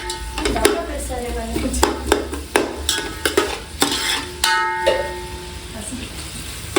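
Sliced onions with cinnamon, cardamom and cloves frying in hot oil for chicken biryani, a loud steady sizzle broken by repeated scraping clinks of a spoon against the pan, with someone talking over it.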